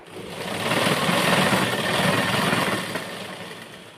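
A sewing machine stitches fabric for a dress, making a continuous, close mechanical whirr that swells in the middle and then eases off toward the end.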